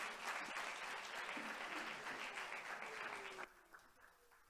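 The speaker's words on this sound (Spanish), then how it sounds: "un aplauso para ellos y empezamos la jornada" Conference attendees applaud at the start of a session on collaborative housing, a brief burst of many hands clapping at moderate distance that fades out sharply after about three seconds, followed by quiet room tone with a few stray sounds.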